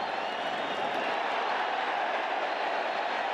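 Stadium crowd at a Barcelona versus Juventus preseason football match in the US, a broad, distant, continuous roar of cheering with a little scattered clapping, steady throughout.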